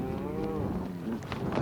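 Cattle lowing during a cattle drive to mountain pasture, with cows and calves, some lame or sick, bellowing in long, loud, close moos one after another over continuous outdoor noise.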